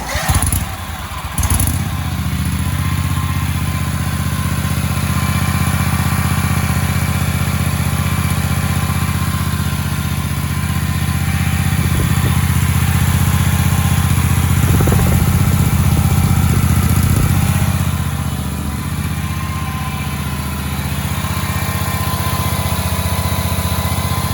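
A zero-turn lawn mower engine that had sat unused for four years runs steadily at a loud, close idle, a rough continuous drone with slight swells and no voices.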